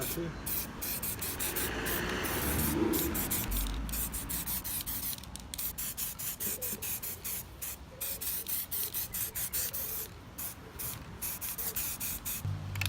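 Spray paint hisses in long continuous bursts with short pauses while black coats go onto BMW E34 headlight rings, close and steady, with occasional brief voices in the background.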